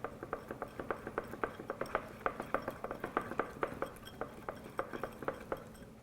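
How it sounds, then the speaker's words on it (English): A whisk knocks rapidly and steadily against the inside of a bowl as batter and vanilla extract are mixed, giving a run of close, bright clinks and taps. "1/2 teaspoon of vanilla extract, and then whisk until combined."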